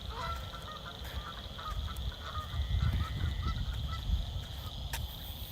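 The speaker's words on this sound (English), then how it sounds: "There's one baby in the goose army there." Canada geese honk repeatedly at moderate distance outdoors, a flock of adults with juveniles, the calls steady over low wind rumble.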